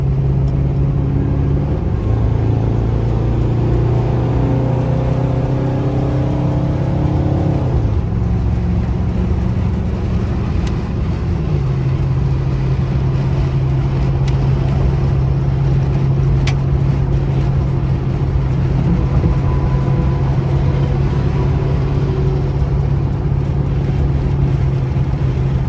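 A car cruises along an interstate highway, its engine droning loud and steady with gear changes early on, then settling into a constant road-speed hum with tire and wind noise and no talking.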